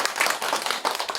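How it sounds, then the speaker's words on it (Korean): Village residents gathered in a village hall clap together in a dense, steady burst of applause, close and lively throughout with no talk over it. "뜨거운 박수 한번 보내주시기 바랍니다."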